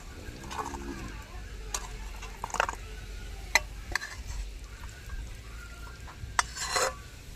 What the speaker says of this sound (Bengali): চিনি দিয়ে আমি নেড়ে চেড়ে নিয়েছি।